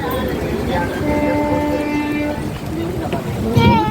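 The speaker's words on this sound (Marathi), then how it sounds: "ट्रेन गाडी आली बघ ट्रेन गाडी आली बघ" A train passes on a rainy day while a bus waits for it to clear, its steady rumble and horn-like tones carrying under a person's nearby chatter throughout.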